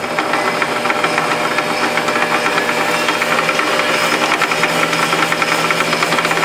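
A Precision Matthews PM1030V metal lathe runs at variable speed with a steady, slightly clunky mechanical hum and knocking rattle, loud and close, continuous throughout with no talking.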